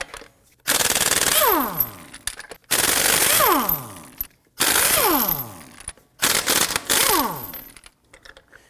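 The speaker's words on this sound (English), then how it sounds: "Using a 19mm socket, we're going to loosen and remove our lug nuts." An impact wrench with a 19mm socket loosens lug nuts on a Volvo XC90 front wheel, four loud hammering bursts, each winding down as the nut frees, with short pauses between them.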